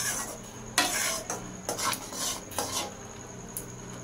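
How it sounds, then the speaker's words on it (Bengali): Crushed cardamom stirred into bottle gourd payesh in a pot, several sharp metallic scrapes and clinks of a spoon against the pot in uneven bursts over a faint background hiss, close and fairly quiet. "এলাচটা দিয়ে একটু নাড়াচাড়া করে এবার এটিকে কিছুক্ষণ ফুটিয়ে নেব।"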